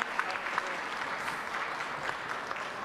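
Audience at the BIT tourism fair in Milan applauding the tourism minister, sustained clapping from a crowd in a large hall, moderately distant and even throughout.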